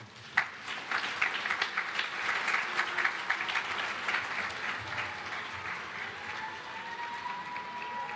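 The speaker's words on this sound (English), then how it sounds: "let's get a round of applause for your parents and guardians" A camp graduation audience applauds parents and guardians, a fairly faint, spread-out clapping that starts with a sharp clap and then holds steady before slowly thinning toward the end.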